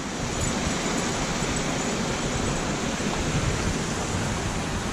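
Steady, dense rushing water roaring without pause, loud and broadband, from a waterfall close by at a canoe portage in Algonquin Park.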